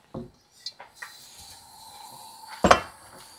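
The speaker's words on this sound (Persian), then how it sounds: "می‌خوای بدی من مایتابه رو بذارم رو گاز؟" A frying pan is set down on a gas stove, with a few light metallic clanks and taps followed by a sharper, louder clatter of the pan meeting the burner, close and clear.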